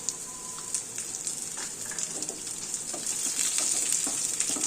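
Carrot, capsicum, dried coconut and raisins fry in a pan with a steady, bright sizzle that grows louder toward the end, broken by occasional soft stirring scrapes.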